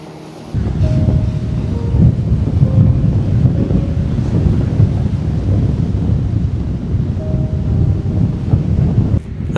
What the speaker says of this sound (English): As I walk down the steps towards the sea, the wind becomes so strong.